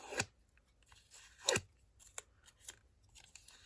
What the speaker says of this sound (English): I'm just going to curl it with my bone folder.